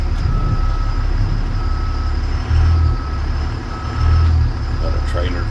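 A 2002 Freightliner FS65 truck rumbles with a loud low engine drone as it rolls off after the brake is released, with two brief swells in the low rumble and a steady high whine, close and continuous.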